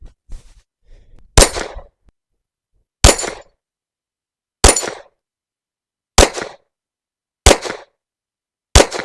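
A TX22 .22 pistol fires six evenly spaced shots outdoors while plinking at small targets, each a sharp crack with a brief ringing tail, separated by clean silences of about a second and a half.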